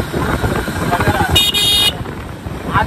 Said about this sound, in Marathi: का नुसतं हॉर्न वाजत आहे आकाश आणि भुवन दादा